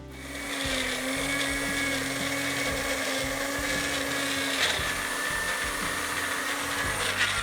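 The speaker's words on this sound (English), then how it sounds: "I blended about a minute and a half, and then I threw some more fruit in there, some more chunks of pineapple and banana" A blender whirs steadily through pineapple and banana chunks for vegan ice cream, a loud, close motor drone with a rough churning texture that holds constant after starting up.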